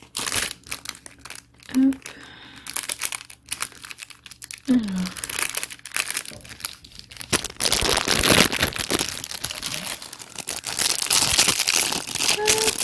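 A dragon bookmark's plastic packaging is opened one-handed, with sparse rustles at first and then a long, loud stretch of dense close-up crinkling. Someone speaks briefly at the start.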